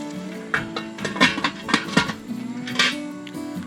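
Utensils clank and scrape against a big pot of camp stew cooking outdoors, with a few sharp metallic knocks over a low background hum.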